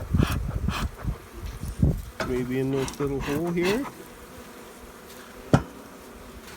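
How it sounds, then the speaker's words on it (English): Live honeybees buzzing in a backyard beehive as the entrance is smoked, a droning hum rising and falling under a man's brief speech and handling knocks. "There's live bees in there anyways, which is a good sign."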